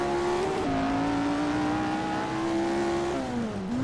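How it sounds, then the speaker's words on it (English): A 1960s Formula 1 race car engine in the Assetto Corsa video game, lapping classic Monaco, screams at high revs, holding a steady pitch with brief drops and climbs as gears change, with no talking. "Car sounds phenomenal, by the way."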